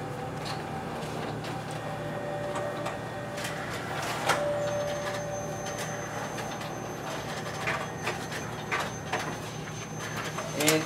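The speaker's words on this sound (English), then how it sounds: "as you can see, the document feeder is working properly." A Ricoh MP C2550 copier runs its document feeder, copying and stapling with a steady mechanical whir, rolling feed noises and intermittent clicks and clacks, with a voice talking over it now and then.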